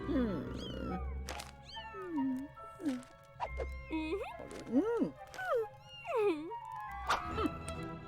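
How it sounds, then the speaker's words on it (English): Cats meowing as a phone ringtone in a Harry Potter video game: several close, high rising-and-falling meows in quick succession over a soft electronic hum and low rhythmic pulses, with no talk. "Hearing kitties meow every time someone calls you."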